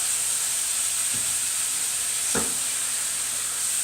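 A burger frying in a pan with seasoning, a constant close, loud sizzle and hiss with a couple of brief bumps from stirring, no voice.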